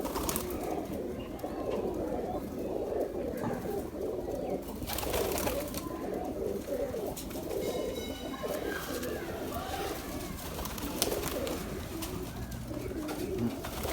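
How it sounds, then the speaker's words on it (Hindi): Pigeons coo repeatedly in soft, low rolling calls close by, with steady background noise and occasional rustling throughout. "ये हमारे डबल कबूतर हैं जी"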